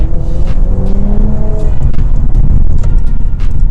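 A Mercedes-AMG C43 engine revs loudly and climbs in pitch as it accelerates, then settles into a steady roar with road noise, close up.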